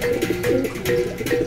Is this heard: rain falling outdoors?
no